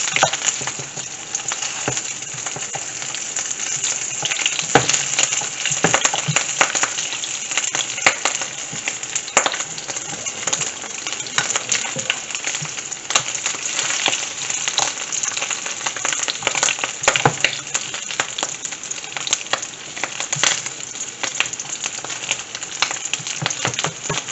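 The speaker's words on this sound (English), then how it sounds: "frying in its own oil." Pork sizzles and crackles steadily in its own hot oil, a dense, continuous spatter with occasional louder pops, heard up close with no talking.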